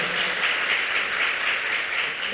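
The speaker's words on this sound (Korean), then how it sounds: "우리 한 번만 박수로 이렇게 환영하고 축복할까요?" A church congregation claps together to welcome and bless children during a Sunday worship service, a dense, steady wash of applause filling the room without a break.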